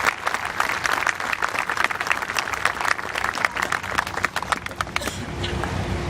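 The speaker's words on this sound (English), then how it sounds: "Let's give everyone who participated in this a round of applause." Outdoor crowd applause at a remembrance walk, a steady patter of many hands clapping for several seconds before tapering off, with faint voices and background noise beneath.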